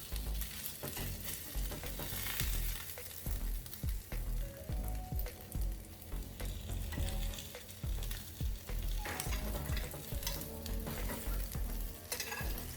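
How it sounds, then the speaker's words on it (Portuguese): Rabanada (French toast) sizzles without oil on the iron griddle of a wood-burning stove, with continuous crackling frying and frequent scraping and tapping of a spatula throughout. "fritou bem de um lado, vamos virar para fritar do outro."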